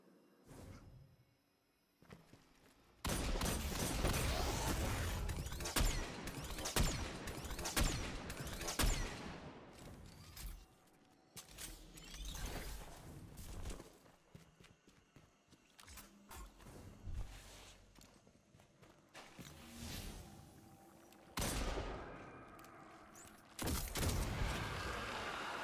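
Scout rifle fire in Destiny 2, played on a Hunter in the Master Lost Sector The Empty Tank: sharp bursts of shots and impacts come in clusters, separated by quieter gaps, with no talk over them.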